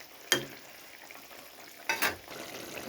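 Quiet frying of taki fish curry in a pan just after tomato goes in, a soft continuous sizzle broken by two sharp bursts of stirring scrapes.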